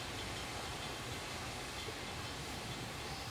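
A fast streamliner train brakes in the Roblox game, making a continuous, dense rushing hiss and rumble that holds steady throughout.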